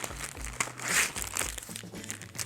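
A plastic packet crinkling as it is opened while unboxing a Fender Squier guitar, a series of close, loud rustling crackles with no talking.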